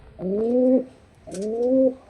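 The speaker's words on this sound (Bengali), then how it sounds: "এই যে এটা হচ্ছে একটা মাদি কবুতর" A female deshi giribaz pigeon coos twice, each call a rising, drawn-out tone lasting about half a second, close and clear with a pause between, no talking.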